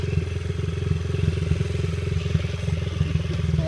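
Dirt bike engine running close by, a loud steady idle with rapid even firing pulses and some rattling clatter throughout.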